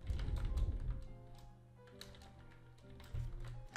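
Quick runs of computer keyboard keystrokes, close and crisp, with short pauses between bursts of typing.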